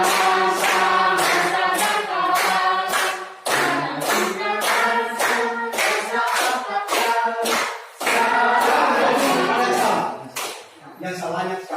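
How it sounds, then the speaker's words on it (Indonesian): Classroom clapping game with children clapping in quick rhythmic bursts and chanting together in sing-song voices, pausing briefly between rounds, loud and close. "langsung tepuk tangan"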